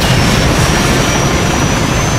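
A helicopter in Call of Duty Modern Warfare roars with a loud, continuous rotor and engine wash, close and unbroken.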